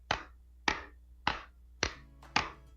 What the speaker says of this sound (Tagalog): Bigyan ng 5 malalakas na palakpak